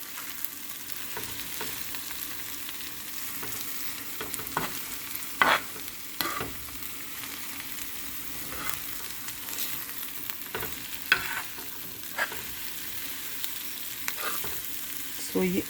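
Crispy okra and potato pieces fry on a tawa, a soft steady sizzle with repeated spatula scrapes and taps against the griddle at an unhurried, irregular pace.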